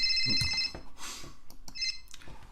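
A telephone ring sound effect playing in a Unity game scene, with bright repeating electronic ring bursts at the start and again near the end, separated by a short gap, clear and close with no talk.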